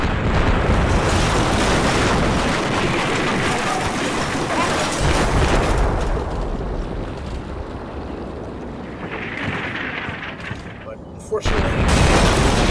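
Heavy gunfire and booming explosions from the Combat Mission Shock Force war game as enemies open fire on nearby buildings, a loud continuous rumbling barrage that eases slightly midway before surging again at the end.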